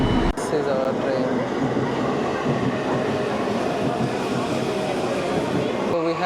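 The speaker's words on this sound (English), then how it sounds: "This is our train." A Keikyu line train bound for Asakusa arriving and running, with a continuous loud rumble of wheels and carriage noise, rhythmic clatter throughout and an abrupt start and cutoff, with people talking underneath.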